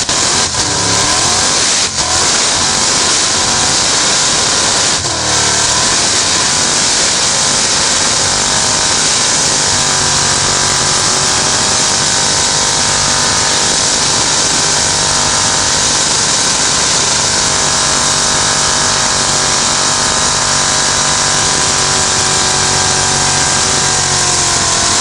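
A supercharged car engine revs hard and continuously through a burnout at the Bíladagar 2008 car festival, a loud, sustained roar with rising and falling pitch lasting the whole stretch, with no talk over it.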